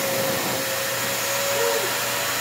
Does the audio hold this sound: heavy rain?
no